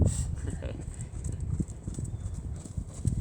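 Horse trotting in a show-ring schooling session, steady rhythmic hoofbeats close by with faint background sound and occasional murmurs.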